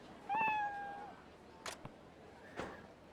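A cat meows in Like a Dragon: Ishin!, one clear rising-then-level meow up close, followed by a couple of faint short noises. No one talks.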